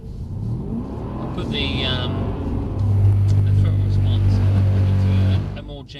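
A Mercedes-AMG car engine on a track at Brooklands, London, rumbling and revving up to a loud sustained drone, then easing off at the end, with people talking over it.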